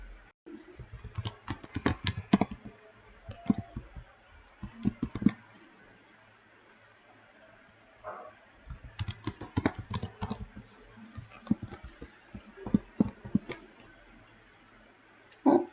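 Someone types a restore-mode password on a computer keyboard while setting up a Windows Server 2019 domain controller, with bursts of quick, close key taps separated by short pauses.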